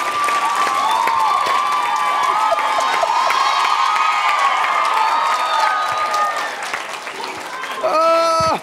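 Applause and cheering from a crowd at a talk on immigration and DACA, steady and loud for several seconds with shouts and voices mixed in, then thinning out as a single voice speaks near the end.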